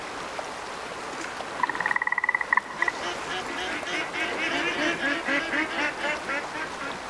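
Duck quacking in the hunting game Way of the Hunter, a short burst of several loud, rapid quacks near the middle over steady outdoor ambience, with faint talk-like murmur afterward.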